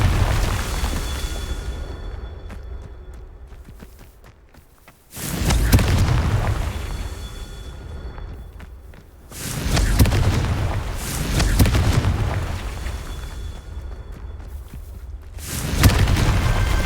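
Confringo spell blasts in the video game Hogwarts Legacy: several heavy, loud booms, each bursting out and then rumbling away before the next one hits.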